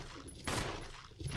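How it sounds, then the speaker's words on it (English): Gunfire from a character's firearm in the video game Resident Evil, a short burst of shots standing out briefly against low game ambience, fairly close and loud. "now you can aim up and shoot him"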